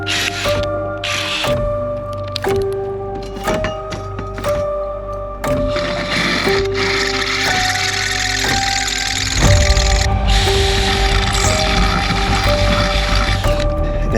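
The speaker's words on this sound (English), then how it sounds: "So we're going to try drilling it and see if we can drill through it." A drill bores into stainless steel on a Catalina 387 sailboat, its motor whine starting and stopping in short bursts with clicks between, then settling into a harsher, louder continuous grind as the bit bites in.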